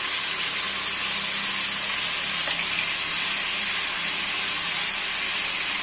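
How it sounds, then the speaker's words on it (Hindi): Chicken pieces fry in a karahi for Shinwari karahi, with ginger garlic paste going in. A loud, continuous, close sizzle with hissing steam carries on without a break, and no one speaks. "चिकन को हम हल्का सा फ्राई करेंगे, बस कितना इसका कलर चेंज होगा।"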